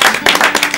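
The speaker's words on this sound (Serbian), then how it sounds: "Aplauz za Vladu!" A quick burst of applause for a guest on a Serbian TV talk show, a dense, close patter of several clapping hands lasting under a second.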